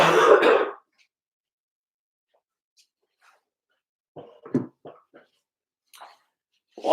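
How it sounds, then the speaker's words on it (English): A person in a kitchen gives a single harsh throat-clearing cough right up close, followed by near silence and then a few faint, scattered clicks and small movements. "Cough."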